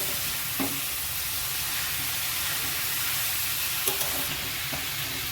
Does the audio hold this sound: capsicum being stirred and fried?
yes